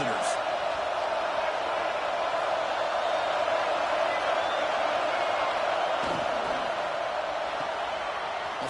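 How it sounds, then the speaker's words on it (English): A stadium crowd in College Football 25 roars in a steady, dense wash of cheering that fills the whole stretch at an even level, with a commentator talking over it. "Listen to the crowd energy here in the early going."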